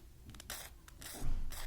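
A hand file scrapes across a post-processed part in several short, rasping strokes, close and fairly quiet, with brief pauses between passes.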